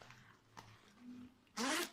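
Zipper on a tactical vest used for airsoft and survival being pulled open in one quick, loud, close rasping stroke near the end, after faint handling rustles.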